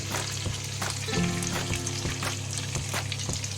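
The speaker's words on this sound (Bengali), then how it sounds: "এরপর আমি এই তেলে দিয়ে দেবো এই কুচি করে রাখা পেঁয়াজ, টমেটো আর থেতো করে রাখা রসুন।" Chopped onion, tomato and crushed garlic fry in oil rendered from fish, a steady loud sizzle with crackling pops and a brief clatter as they hit the pan.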